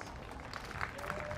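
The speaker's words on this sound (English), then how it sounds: "So a polite round of applause for the team from Georgia." A polite round of applause for the Georgia team at a blind football European Championship medal ceremony, faint crowd clapping heard briefly with a murmur of background noise.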